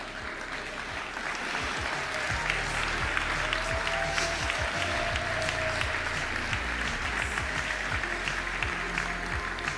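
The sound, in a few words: audience applause for graduates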